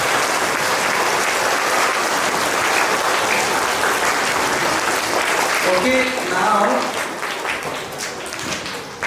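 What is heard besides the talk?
school assembly audience clapping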